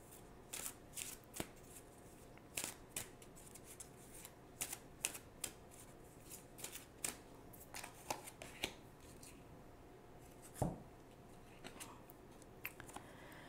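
Spirit oracle cards shuffled by hand in a quiet room, a run of crisp irregular riffling snaps and flicks repeating for several seconds with no voices.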